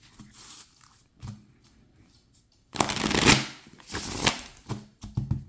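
Tarot card deck shuffled up close: a long loud riffle followed by several shorter ones, with light tapping and handling noises in the gaps.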